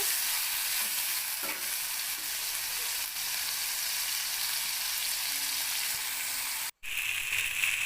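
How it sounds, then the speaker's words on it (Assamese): Chopped tomatoes with salt and turmeric fry in a pan, giving a continuous loud, hissing sizzle with occasional stirring scrapes. It runs close and unbroken, with one brief dropout near the end. "তাৰপিছত বিলাহীখিনি জহি যোৱালৈকে অকণমান সময় ভাজি থাকিব।"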